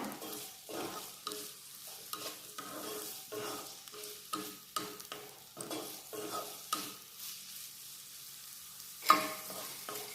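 Onion sautés in a pan while it is stirred, a soft sizzle broken by repeated scraping strokes of the spoon in an uneven rhythm, quiet and close, with one sharper clank near the end.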